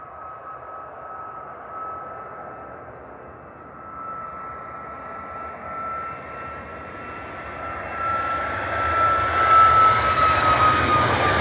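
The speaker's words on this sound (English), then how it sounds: "Ryanair to Alicante there, 737 MAX 8 200 EIA" A Ryanair Boeing 737 MAX 8 bound for Alicante passes at Manchester Airport, its steady jet-engine roar and high whine swelling louder toward the end.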